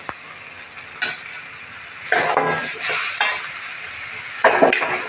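Fried bombil fish and potato pieces sautéed in a pan: intermittent bursts of sizzling and spatula scraping, each rising and fading over a few seconds, with quieter hiss between.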